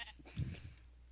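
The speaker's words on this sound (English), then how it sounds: "There's a sheep in our base." Sheep bleating in a Minecraft-style video game, one short bleat peaking midway, moderately faint over a low steady hum with no talk.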